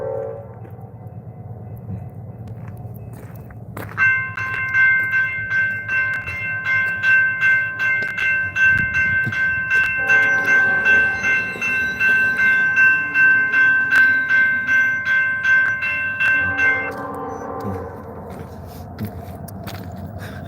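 At night a train passes a railroad crossing in Millbury, Ohio, its horn sounding a long, loud, sustained blast over the rhythmic clatter and rumble of the railcars, which fade as the horn stops.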